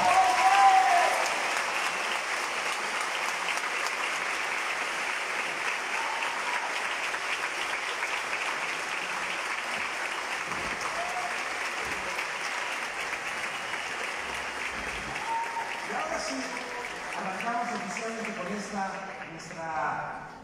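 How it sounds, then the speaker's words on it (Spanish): Steady applause from a large crowd at the closing ceremony of the Guadalajara International Film Festival, sustained throughout, with a voice speaking over it near the start and a few shouts toward the end. "¡Que se escuche ese aplauso!"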